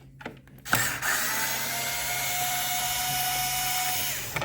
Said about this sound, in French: avec notre Torx, on vient dévisser